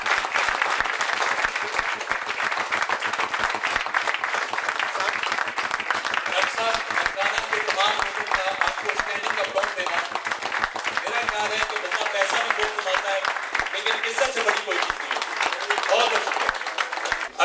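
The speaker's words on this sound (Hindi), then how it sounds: "तालियां रुकनी नहीं है" A crowd at a press club award ceremony keeps clapping loudly and continuously while someone speaks over the applause partway through.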